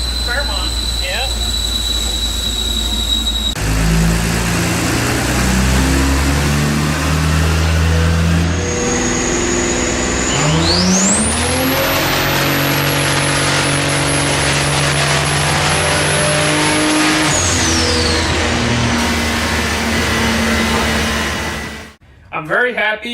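Turbocharged car engine revving hard on a dyno, a loud sustained roar that climbs in pitch with a rising turbo whistle, holds at full power, then drops off abruptly; a voice talks over it.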